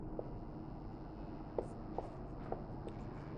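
Pen or chalk writing notes during a Hindi-language biology class, heard as faint scratchy strokes with a few soft taps against a steady room hiss, no voice present.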